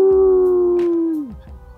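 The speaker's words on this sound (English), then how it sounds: "Perhaps the most well-known characteristic of the wolf is its howl." A wolf gives a single long howl, a steady, clear, loud tone held for over a second before sliding down in pitch and fading out.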